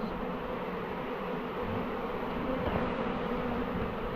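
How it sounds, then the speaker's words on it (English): A dense, steady buzzing of many bees swarming close by during a swarm removal, continuous and unbroken throughout with no voices. "Once we start fanning to the box, the bees will all go to the box."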